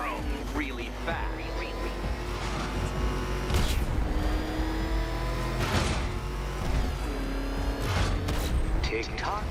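Batmobile engine from Batman: Arkham Knight revving and surging as it accelerates, a continuous loud mechanical roar with repeated bursts, mixed with game effects and voices talking over it.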